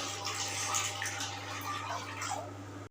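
Water pours steadily into a cooking pot for boiling beans, a continuous close splashing wash under a constant low electrical hum, with no talk.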